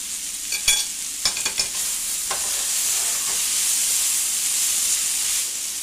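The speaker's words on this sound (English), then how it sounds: "I'm going to add my garlic now." Garlic hits a frying pan of browning vegetables, giving a steady loud sizzle and hiss with a few stirring scrapes and clinks near the start, no talk.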